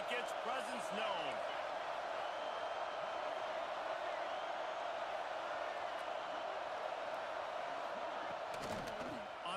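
A steady, dense roar from a packed stadium crowd in College Football 26 holds throughout at an even level, a broad wash of cheering noise with a brief swell near the end.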